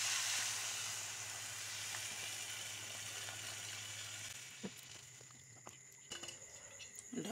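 Water poured into a hot pan of boiled pumpkin sets off a loud, steady hiss and sizzle that fades after about four seconds, leaving faint bubbling and a few small clicks and taps.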